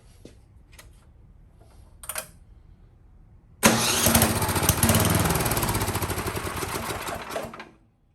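A Husqvarna snow thrower engine is pulled to start: a few sharp cord tugs and clicks, then the engine catches and runs loudly up close for about four seconds before cutting out.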